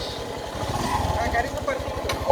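A motorcycle engine idles with a steady low rumble at the start line of a mini marathon, and people talk nearby over it.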